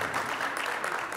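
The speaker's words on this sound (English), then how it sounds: "You can clap for them again." A room of people at a candidates' meeting claps, a soft, continuous spatter of applause heard from a slight distance.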